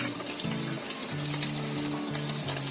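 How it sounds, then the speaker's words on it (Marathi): Rice kurdai fryums frying in hot oil give a steady, close sizzling hiss with bubbling texture throughout, moderately loud and without talk. "आता तेल चांगलं तापवून घ्यायचा आणि तेलामध्ये सोडायचे."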